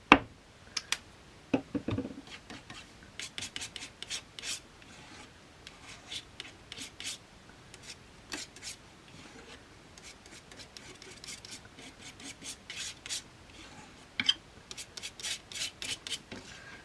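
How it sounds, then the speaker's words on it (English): Paint is scraped repeatedly across a surface in short, dry rasping strokes, quiet and close, coming in irregular bursts with brief pauses between them. "Just keep scraping it over until you've got a reasonable covering."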